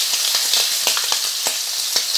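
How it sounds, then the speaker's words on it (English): Pasta carbonara ingredients sizzle steadily in a hot frying pan, a close, dense crackle with small popping spits and no talking. "you hear that nice sizzling noise"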